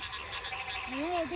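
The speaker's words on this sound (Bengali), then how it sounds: "দিনের বেলায় কখনো ব্যাঙের ডাক শুনছেন আপনারা" A frog near flooded fields croaks in daylight, a clear rising and warbling call that ends the short stretch, over a soft hiss of wind and water.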